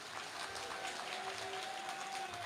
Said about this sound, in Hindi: यदि तैयार हैं तो जरा ताली बजा करके हाँ कहिए